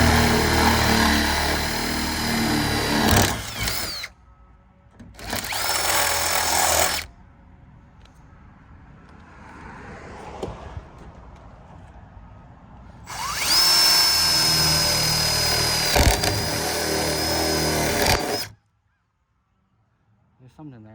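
Power drill boring through a car trunk lid to mount an SRT spoiler, several loud whirring bursts separated by pauses, with quieter handling noise in between.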